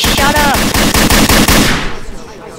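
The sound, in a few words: machine gun fire in Garry's Mod video game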